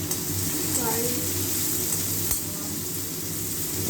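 Honey chilli chicken with ginger and paste stir-frying in a hot pan gives a steady, close sizzle throughout, with a soft stirring scrape and a sharp tap from the pan partway in.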